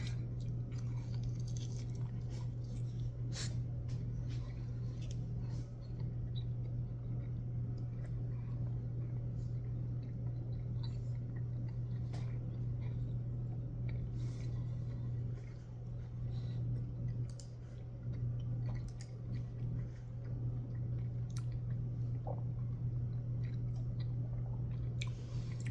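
Close, soft chewing and squishy bites of a Taco Bell steak and poblano rolled quesadilla, cheesy and creamy, carry on steadily over a constant low electrical hum.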